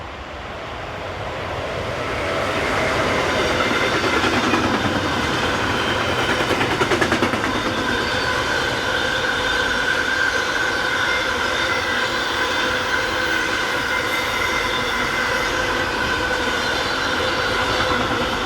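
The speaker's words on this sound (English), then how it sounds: "Another Class 193, this time 193605, with train DGS 41130 from Budapest to Rheinhausen." Class 193 electric locomotive 193605 hauling a long freight train from Budapest to Rheinhausen on a busy German mainline, approaching and then rolling past in a steady loud roar with a sustained whine, no voices.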